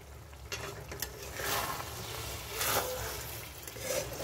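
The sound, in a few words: stirring tangra fish chachari in a frying pan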